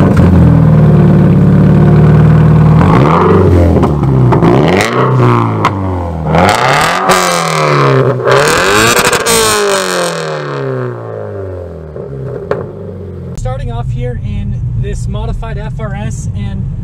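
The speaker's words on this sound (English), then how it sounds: "the exhaust system is really, really loud. So I'll throw in a clip right now just so you can hear that." A modified 2013 Scion FR-S with a loud quad-tip exhaust revs hard and close, its engine note rising and falling through several sharp swells before settling into a rougher idle.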